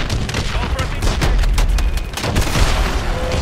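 Gas explodes in Call of Duty: Advanced Warfare with a loud, dense run of booming blasts and crackling gunfire-like bursts that fills the whole stretch without letting up.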